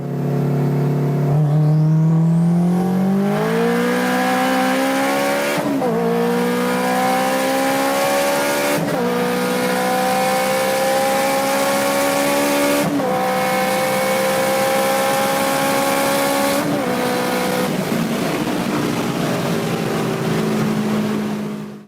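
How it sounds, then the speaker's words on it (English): Combustion engine revving up and climbing through several gear shifts, a loud sustained drone that rises in pitch and drops sharply at each downshift, running continuously with no talk. "The tool I am talking about is the combustion engine."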